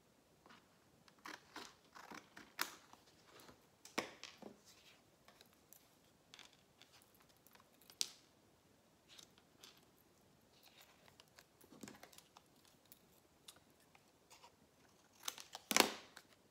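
Scissors snip through paper while gift tags are being made, giving sparse, quiet clicks and crisp cuts spread irregularly, with a louder cluster of snips near the end.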